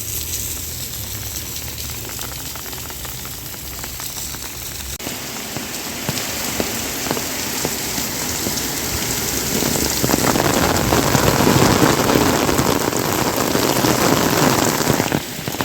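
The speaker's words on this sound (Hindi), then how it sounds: "बहुत तेज़ों की बारिश आने लगी गाइस।" Heavy rain pours down, drumming densely on a surface and growing louder and fuller partway through, with no voices.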